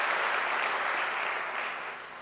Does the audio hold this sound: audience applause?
yes